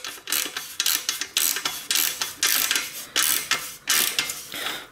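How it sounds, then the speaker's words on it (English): Bottom bracket thread chasing tool being screwed into a bike frame, a repeated metallic ratcheting and grinding in steady strokes, about ten turns, close and alone. "then I'm going to hit and use the tool to screw it in"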